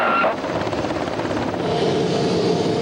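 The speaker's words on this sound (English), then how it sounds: "Once the men are safely on board, the helicopter hightails it home." A rescue helicopter flies past at close range, its steady loud rotor and engine roar sustained throughout after a brief higher tone at the start.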